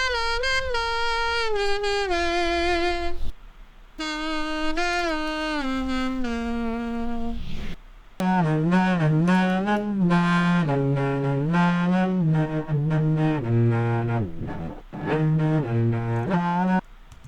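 A saxophone-like melodic line plays in sustained, bending notes and phrases, with brief gaps between passages and no talking.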